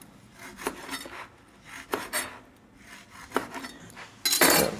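A knife scrapes and rasps as it trims the crispy, overbaked edges off a cake layer, in several short separate strokes with a louder, rougher stroke at the end and no talking.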